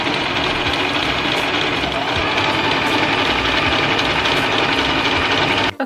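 A sewing machine stitches the trims and edges of a DIY patchwork top made of sewn fabric pieces, running as a steady, continuous, fairly loud mechanical whir with a dense rhythmic clatter throughout, stopping abruptly at the very end.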